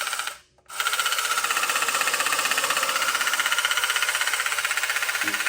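A vintage Japanese battery-operated tin toy Batmobile runs its motor with a rapid, steady mechanical clicking and whirring, close and continuous after a brief pause near the start.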